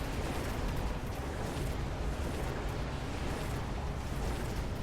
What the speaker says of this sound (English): Phoenixes get struck, but they need 3 missile strikes from the orbital to get destroyed.